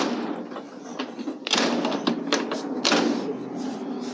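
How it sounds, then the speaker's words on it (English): A Chevrolet C10 pickup truck door shuts with a few dull knocks and latch clunks over a continuous background hiss, close by, with the striker not lining up well. "when you shut the door"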